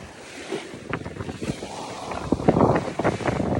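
A sailboat sails back toward Catalina through coastal fog at sea. Steady gusting wind buffets the microphone over rushing water and splashing waves, loud and close, with no talking.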